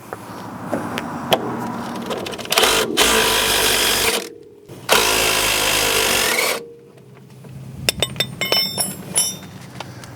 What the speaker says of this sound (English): So put your wrench on one side and your impact on the other.